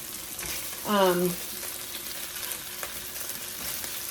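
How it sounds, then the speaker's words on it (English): Meatballs fry in a pan with a little onion and garlic, giving a steady loud sizzle close by, with a brief tonal squeak or voice-like sound near the start. "I'm turning these meatballs."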